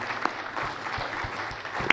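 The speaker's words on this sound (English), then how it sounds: "Honorable David Wright, round of applause, please." Audience applause at a nuclear energy summit in Kenya, steady moderate clapping from a hall crowd with a few sharper claps standing out.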